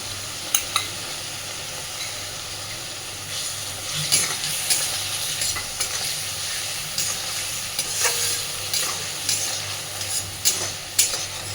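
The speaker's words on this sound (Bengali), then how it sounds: "এইবার মশলা থেকে তেল ছাড়া পর্যন্ত সুন্দর করে কষে নেব" Spice paste for a Bengali eel kalia cooks down in oil, producing a steady sizzle and hiss with repeated scraping and clinking stirs of a utensil against the pan, close and fairly loud throughout.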